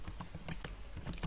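Keys clatter on a computer keyboard as code for a Kotlin program is entered, a short burst of close, quick clicks with brief pauses between strokes.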